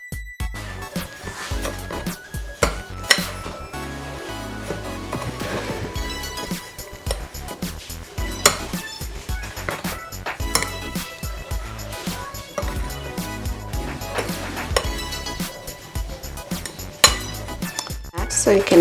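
A whisk beats banana muffin batter with sugar in a bowl, making rapid, continuous metallic clinks and taps against the bowl's sides, close and fairly loud, with a voice talking over it at times.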